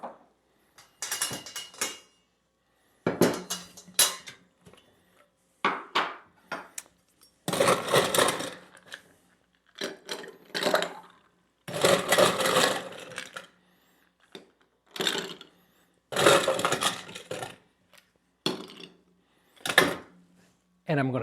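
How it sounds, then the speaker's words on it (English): Ice cubes being put into a cocktail glass for a Tom Collins, a series of irregular clinks and rattling bursts separated by short pauses, close and fairly loud. "Now what I want to do is ice up the glass."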